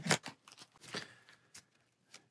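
Gloomhaven Jaws of the Lion playing cards being shuffled close up, a quick riffle followed by several short dry card flicks and taps.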